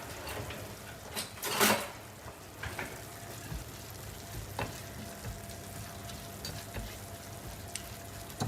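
Small diced onion frying in olive oil over low heat, a steady soft sizzle with occasional louder clinks and stirring scrapes, the loudest burst early on, with no voices.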